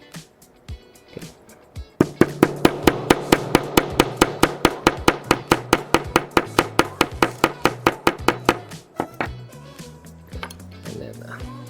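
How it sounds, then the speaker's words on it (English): A pin is hammered into a GHK Glock Gen5 airsoft pistol: a fast, steady run of about thirty sharp, close metallic taps, evenly spaced, preceded by a few scattered knocks and followed by a brief voice. "now it just comes down to the hammering"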